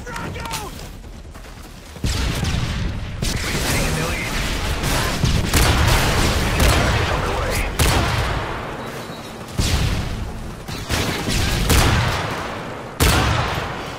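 Frag grenade blasts and heavy gunfire in Call of Duty MW3 multiplayer, loud repeated booms and volleys in bursts, with voices shouting over the combat.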